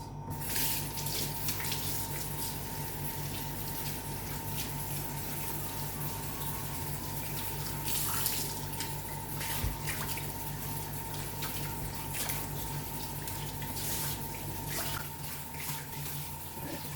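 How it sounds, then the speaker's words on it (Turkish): Jute and cord rope placemats rinsed by hand under a running kitchen tap, a steady close stream of water splashing and gurgling into the sink for the whole stretch, with no talking. "Evet şimdi musluğun altında güzelce durulayacağız."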